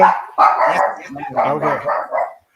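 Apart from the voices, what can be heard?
dogs barking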